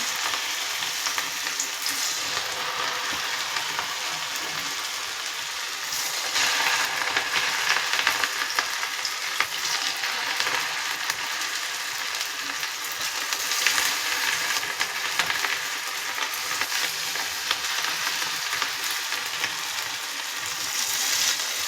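Cauliflower pakoras fry in hot oil, a dense, steady sizzle with fine crackling that runs unbroken and fairly loud at close range with no speech.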